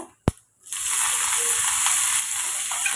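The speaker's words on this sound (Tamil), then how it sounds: "இதில் கொஞ்சமாக கட் பண்ண வெங்காயம் சேர்த்துக்கோங்க" Chopped onion dropped into hot oil with popped mustard seeds, urad dal and cumin sets off a loud, steady sizzle right after a single sharp clatter, close and continuous.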